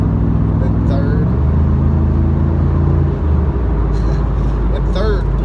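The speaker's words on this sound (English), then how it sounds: "you can hear the V8 open up. Like here, I'll put it down in fourth, and you can hear it" A 1997 Chevrolet Camaro Z/28 with its 285-horsepower LT1 V8 pulls in fourth gear, a loud, deep, steady engine drone building under continuous talking from inside the car.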